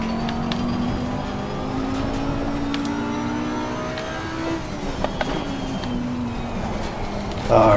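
An Audi GT3 race car engine drones continuously in the Assetto Corsa Competizione racing game on the Nordschleife, a steady high-revving tone with shifting pitch, other cars faintly passing, and a brief burst of noise at the end.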